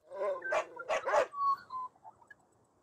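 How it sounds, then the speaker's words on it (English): Two dogs barking at magpies in a backyard, a quick run of sharp, close barks followed by softer whimpering yips fading out, with no talking. "Pixie and Pepper were barking at the magpies on the clothesline."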